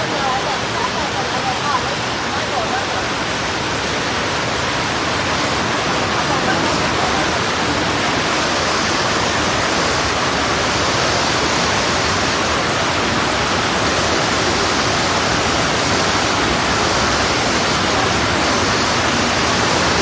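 Heavy rain pours down during a storm in Taunggyi as a dense, unbroken roar that stays loud and even from start to finish.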